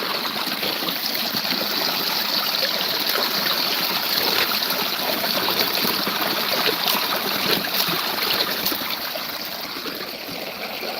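A shallow woodland brook in Vermont flows steadily over rocks, a continuous close-up rush and trickle of water with a bright hiss that holds unchanged for the whole stretch, no voices over it.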